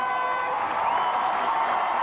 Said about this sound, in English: the Galena Pirates fans start the cheering now